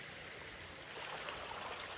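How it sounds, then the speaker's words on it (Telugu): A stream at Sabarimala rushes steadily beside the pilgrim path near the shops, its water making a continuous broadband hiss and gurgle, close and even throughout with no voices. "ఈ వాటర్ ఫ్లోయింగ్."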